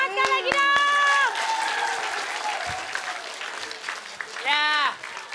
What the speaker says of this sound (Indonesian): Tepuk tangan sekali lagi dong.